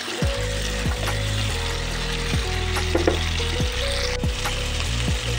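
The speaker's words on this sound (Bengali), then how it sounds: "এটাও পনিরের সাথে ভেজে নেবো, কোনো আলাদা করে আর ভাজবো না। আঁচটাকে একদম কমিয়ে ভাজবো" Paneer and soaked chickpeas frying together in a pan on very low heat, a continuous close sizzle with steady crackle, accompanied by a low repeating hum and periodic knocks, no talking.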